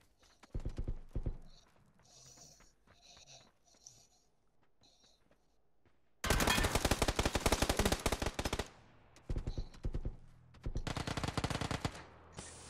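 Gunfire in PUBG: Battlegrounds: faint scattered shots early, then loud sustained automatic bursts, a pause, and another rapid burst, close and sharp.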